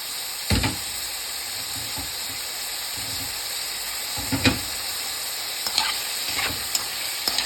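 Tomatoes sizzle and fry in a pan over medium heat while a spoon stirs them, with a steady hiss throughout and several distinct scraping stir strokes, close and fairly loud, no talking.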